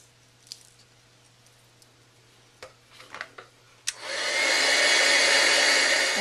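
A heat gun switches on partway through and blows a steady, loud broadband roar while heat-setting ultra thick embossing powder on a stamped card, preceded by a few small taps and rustles of handling.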